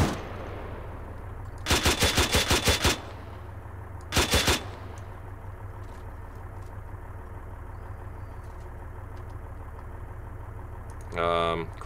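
Vehicle-mounted gun firing HEDP shells in Arma 3, two loud rapid bursts of automatic fire, the first longer and the second short, over a low engine idle, with a brief mechanical clatter at the end.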